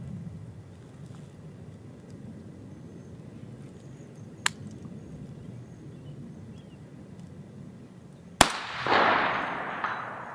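A rifle is fired from the prone position, rested on a shooting bag outdoors. A faint sharp crack comes first, then one loud close shot whose report rings and fades over a steady background hum.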